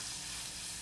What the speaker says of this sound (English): We're gonna put them together, and what do we get? We get sizzle.